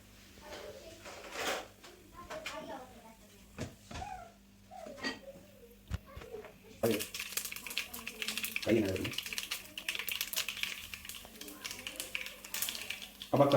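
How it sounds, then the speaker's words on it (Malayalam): Mustard seeds crackle in hot coconut oil for a tapioca biryani, with sporadic clicky pops thickening into a busy, bright crackle during the second half, near and moderately loud. "കടുക് പൊട്ടട്ടെ."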